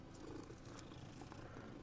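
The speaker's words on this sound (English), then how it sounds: "Of course I'll pet the cat again" A cat being petted in Hogwarts Legacy purrs in a low, steady, continuous rumble, quiet and close, with no other sounds.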